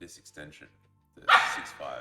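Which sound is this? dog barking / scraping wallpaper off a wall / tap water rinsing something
dog barking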